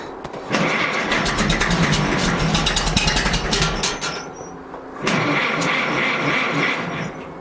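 Farmall MD and John Deere 70 tractor engines cold starting, a loud stuttering crank that catches into rough, uneven running, briefly fading before firing up again close by.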